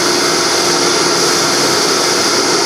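Fine-grit sanding of a wooden bowl spinning on a lathe at around 500 RPM, a loud, steady, even hiss and whir with no breaks and no talk.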